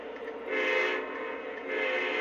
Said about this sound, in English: Let's fire up this tunnel motor.